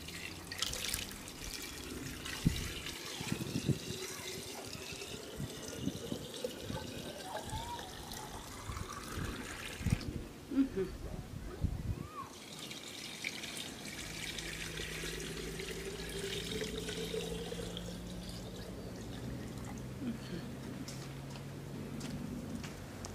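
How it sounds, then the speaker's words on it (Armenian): Water trickles and splashes as it is poured into jars of homemade peach compote, a quiet, uneven stream broken by short pauses and drips, with some soft talk in the background. "սրանց վրա էլ ջուր ավելացնենք ու եռացնենք"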